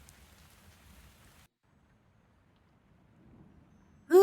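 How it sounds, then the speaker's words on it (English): Rain falls as a soft, faint patter in the video game Tavern Talk, quiet and steady before fading, with a sudden sharp sound cutting in at the very end. "Whoa, it's raining."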